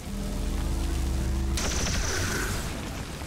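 A gunshot in the tactical strategy game XCOM 2: War of the Chosen, a single sharp crack with a ringing tail cutting through steady background game music.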